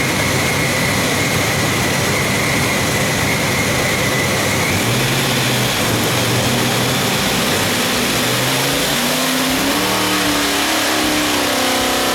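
A non-intercooled ProCharged big-block Chevy of over 1,400 hp, fed by a blow-through carb and running pump gas, roars on an engine dyno, loud and sustained, its pitch climbing steadily through the pull with no talk.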